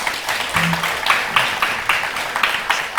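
Audience at a public meeting with the mayor of Kaloum applauding, a steady wash of many hands clapping at moderate volume throughout.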